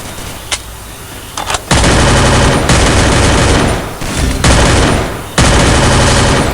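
Loud automatic gunfire in the video game Free Fire. A few isolated shots come first, then long, dense sustained bursts with brief gaps between them.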